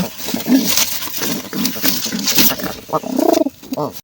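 Soft, low pigeon coos repeat through the clip, a few rounded calls close by with some light background noise.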